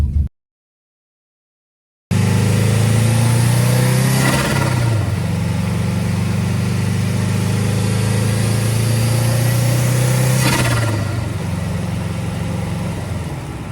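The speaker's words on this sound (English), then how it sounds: "it made some pretty fucking insane turbo noises" Loud, close engine note of a turbocharged Subaru WRX fitted with a blow-off valve block-off plate, revving steadily with two sharp rising surges and a fluttering release, ending in a fading hum after a brief silent gap at the start.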